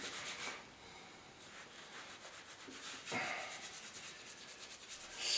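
A Klingspor Sandflex block rubs steadily back and forth over metal to remove a corrosion stain, a soft, quiet scrubbing with repeated strokes.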